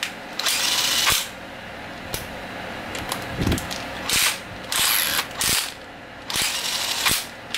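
Cordless screwdriver fitted with a drill chuck, drilling in short bursts: whirring motor runs with ratcheting clicks, several separate pulses close by, with no talk.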